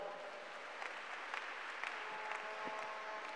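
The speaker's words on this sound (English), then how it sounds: "give Jesus a clap offering." A church congregation gives a clap offering at a live service, with steady, fairly faint applause and a few sharper claps rising above it.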